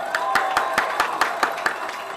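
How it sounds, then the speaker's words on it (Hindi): Sparse hand claps from a group, about ten distinct sharp claps in an irregular rhythm, moderately loud over a murmuring room background with a faint voice. "तालियां बजाओ."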